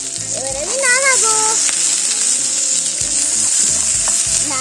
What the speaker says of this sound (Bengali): এবার আমি নাড়াবো